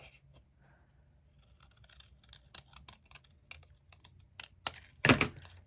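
Scissors snip through a folded sheet of paper while cutting out two giraffe ears for an animal headband, a series of faint close clicks and rustles building to one loud, sharp final cut.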